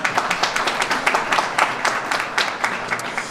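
A crowd at an outdoor groundbreaking ceremony gives a round of applause, close and lively clapping with distinct individual claps standing out in a steady, fairly loud burst.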